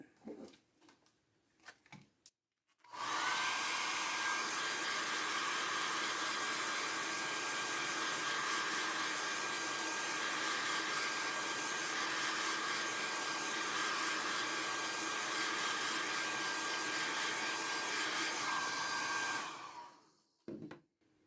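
A hair dryer blasts steadily for about seventeen seconds, drying a Distress Oxide ink background on a craft board, with a loud, even roaring whoosh that starts and stops abruptly and has brief handling noises before and after.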